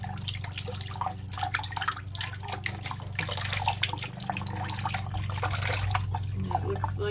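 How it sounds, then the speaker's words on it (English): Water runs from a bathtub faucet, a steady splashing rush with dripping and clatter over a low hum, close and continuous with no speech. "Then I run the water to clean it."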